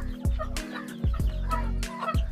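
Hens cluck and gobble-like calls sound in a small country-chicken poultry shed where a broody hen sits on about twenty eggs, with repeated low clucks and sharp bursts over steady background noise.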